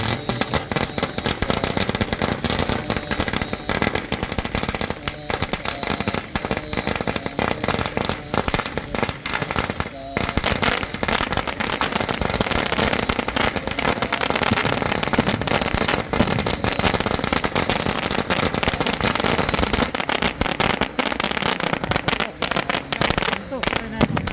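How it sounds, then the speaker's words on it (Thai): A very long string of firecrackers bursts continuously at a Thai temple event, a dense, loud, unbroken crackle lasting throughout with no pause. "ประทัดนี้ก็น่าจะหลายแสนนัดน่าดูไป"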